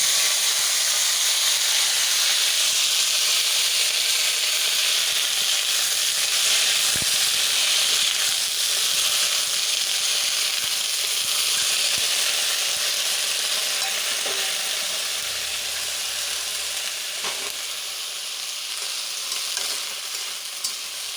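Vegetables and cumin seeds fry in a pan with a loud, steady sizzle and hiss, close up and continuous, with a few faint clinks of stirring.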